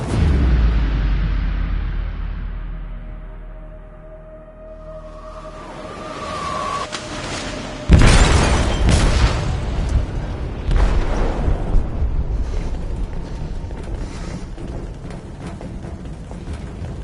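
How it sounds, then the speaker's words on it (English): An explosive detonates in a ship's hold in Detroit: Become Human, a loud deep boom with a sharp onset at eight seconds, after a low rumbling build, then followed by a sustained roar of crashing and rumbling debris. "They detonated an explosive in the hold. The ship is sinking, sir."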